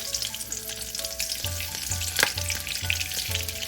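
Fenugreek seeds and a dried red chili hit hot oil for a Nepali asparagus curry, giving a steady, loud crackling sizzle with a regular low thumping pulse underneath.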